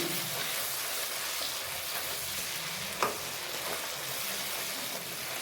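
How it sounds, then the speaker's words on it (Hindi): A potato and eggplant masala with chili, turmeric and cumin fries in a pan, giving a steady, close sizzle with faint stirring and one brief clink, and no talking. "2 से 3 मिनट के लिए इसकी बुनाई करूँगी।"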